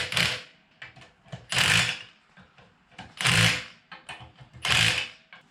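Tool work on car suspension cone washer nuts, a series of short bursts of ratcheting, buzzing mechanical noise starting and stopping at irregular intervals, close and fairly loud, with no talking.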